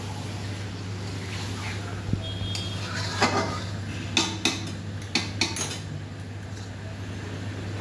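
Pieces of chicken with spices being stirred in a pan give faint scattered clinks and scrapes of a utensil against metal, a handful of sharp taps over a low steady hum in a home kitchen.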